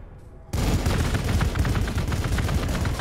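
Rapid, loud bursts of gunfire and explosions erupt suddenly after a quiet start in the Warhammer 40,000: Gladius strategy game, continuing as dense crackling volleys with no talk.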